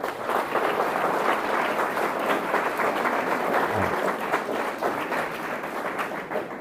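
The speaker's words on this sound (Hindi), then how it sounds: "आप लोगों की जोरदार तालियां एक बार।" Engineering students applaud at a Constitution Day lecture, a dense, sustained burst of clapping from a sizable crowd that stays loud and steady throughout without voices on top.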